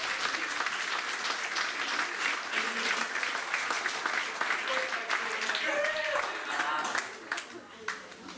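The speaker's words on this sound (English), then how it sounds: "A big round of applause." An audience at a student-led school climate conference breaks into sustained, dense applause that keeps going for several seconds before tapering off into scattered claps at the end.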